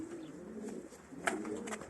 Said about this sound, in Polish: te gołębie, te rude. Mam ich całą rodzinę